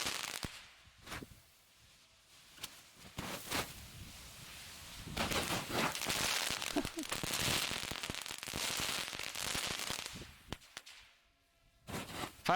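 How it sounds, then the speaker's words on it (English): Modern fireworks crackle and pop in quick, irregular bursts, some sharp single bangs and some dense rolling crackle, at moderate distance with brief quieter gaps between volleys. "So this is now modified with modern fireworks stuff going on too."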